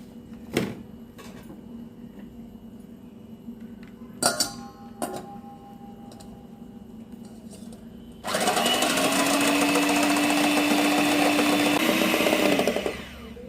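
Four eggs with a teaspoon of vanilla essence whipped by an electric hand mixer, a steady loud motor whir starting partway through and running about five seconds, preceded by a few faint clinks and taps in a quiet kitchen.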